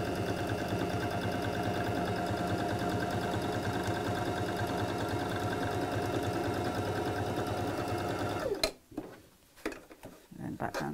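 A sewing machine stitching a tacking stitch through layers of fabric while making a zipped folder, a steady close mechanical whirring hum that stops abruptly near the end, followed by a few handling noises.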